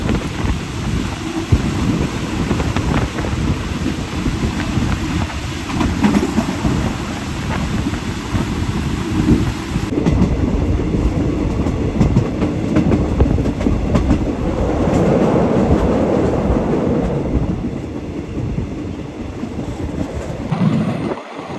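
Thai passenger train 211 rumbles along the rails near Rangsit, a loud continuous roar with rattling and wind noise that shifts as it rounds a curve.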